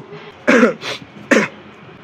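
A person gives two or three short, close throat-clearing coughs in quick succession, each a sharp burst, with a quiet pause after them.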